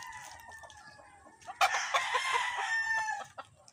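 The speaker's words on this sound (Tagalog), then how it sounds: "Grabe, daming manok." A large flock of chickens clucks and crows, with a bright rooster crow cutting in over a steady backdrop of clucking from many birds at moderate distance.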